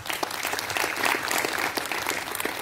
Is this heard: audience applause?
yes